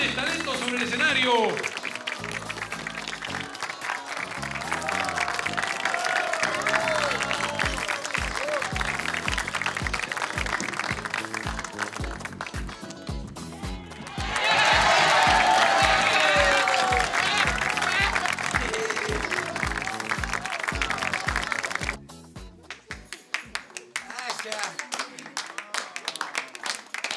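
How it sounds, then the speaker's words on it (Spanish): Sustained audience applause at a stage show runs under ongoing talk, surging louder midway and then thinning to scattered claps near the end. "¡Fuerte el aplauso!"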